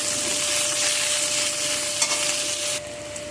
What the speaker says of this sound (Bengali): ওই কড়াই তেল দিয়ে আলুগুলোকে আমি নেড়ে নেব।